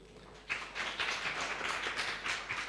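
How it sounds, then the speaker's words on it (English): Audience applause for a speaker closing a network operations conference session: steady broadband clapping from a moderate-sized crowd that starts abruptly and holds for about two seconds. "please give Alana a round of applause"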